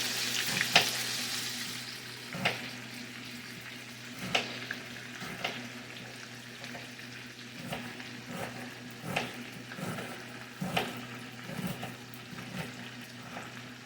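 Onions frying in a pan for German potato salad, a steady close sizzle with a repeated rhythm of stirring scrapes throughout, no voices.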